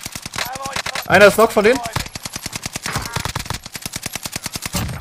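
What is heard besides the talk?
gunfire in the video game Call of Duty Warzone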